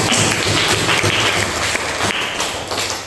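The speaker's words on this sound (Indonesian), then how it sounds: "tepuk tangan buat Sabira" Students in a classroom applaud a classmate, a loud and steady burst of clapping from many hands that fills the room for a few seconds with no voices.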